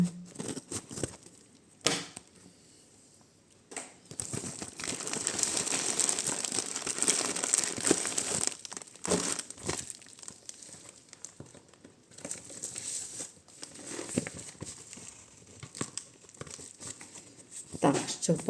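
Packaging crinkles and rustles as a small parcel of vintage jewelry is unwrapped up close, with irregular crackling bursts of plastic and paper and a few sharp tearing sounds throughout.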